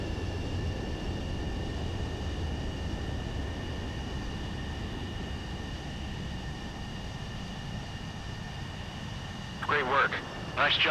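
A plane lands in Ace Combat 7 with a steady, rumbling jet engine drone holding throughout, and a voice cuts in briefly near the end.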